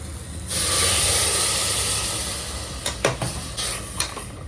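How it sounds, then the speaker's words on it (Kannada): Ground masala is tipped into a hot pan for biryani and bursts into a loud, close, continuous sizzle that slowly eases, followed by a few sharp spoon scrapes against the pan. "ಇವಾಗ ಇದು ರುಬ್ಕೊಂಡಿರೋ ಮಸಾಲನ ಹಾಕೋಬೇಕು."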